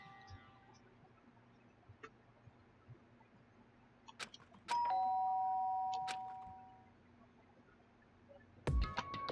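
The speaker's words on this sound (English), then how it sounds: "did I hear the doorbell?" A doorbell in the video game Danganronpa rings once as a clear sustained electronic chime over a quiet background, followed by a few soft clicks and a louder burst at the end.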